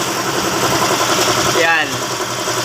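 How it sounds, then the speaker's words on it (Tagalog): A 2023 Mazda 3 Skyactiv engine idles with a steady, even mechanical hum at a Shell service station during an oil change check-up, heard close with someone talking over it. "yung makina ni Mazda 3 Sky Active"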